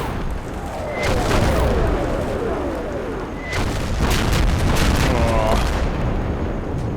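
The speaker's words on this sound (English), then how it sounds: "That's the other bad thing about this such heavy artillery the Germans have here." Heavy German artillery shells explode in the Combat Mission video game as a dense, continuous barrage of booms and crackling blasts, loud and close, with a voice faintly audible beneath.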